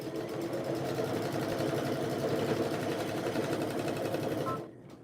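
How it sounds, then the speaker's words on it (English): A sewing machine stitches the corner of a fabric bag, its needle chattering in a fast, even, motor-driven rhythm close by for several seconds before stopping abruptly. "The only thing I'll have to do is just sew that little corner."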